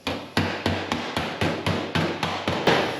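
Eleven sharp, evenly spaced hammer blows ring out close by as a bullet hole in a car's metal body panel is beaten flat, each strike a bright metallic clang with a short decay.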